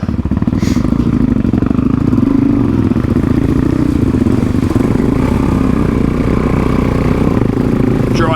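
A Suzuki DRZ400E dual sport motorcycle engine runs loud and close throughout, a steady rough mid-pitched rumble with a constant clattering beat, on a cold day.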